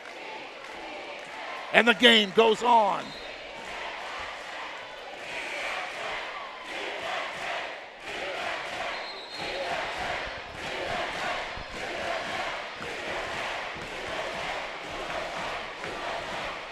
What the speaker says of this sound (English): as the players come back on the court, you will hear the crowd start to rise